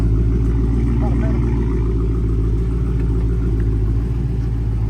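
Dodge Scat Pack engine rumbling loud and steady from inside the car in traffic, a deep continuous drone with slight rev swells and no clear pauses.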